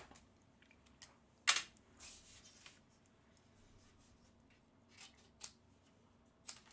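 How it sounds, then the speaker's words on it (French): Scissors cutting a paper card for a triple easel card craft project: a few faint, separate snips and rustles spread across a quiet background, with one sharper, louder cut early on. "Et je vais maintenant la découper."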